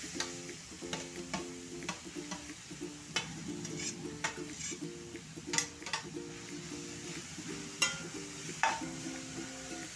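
Grated carrot frying in a pan of hot ghee, giving a steady low sizzle with repeated scraping and stirring clinks throughout. No one speaks.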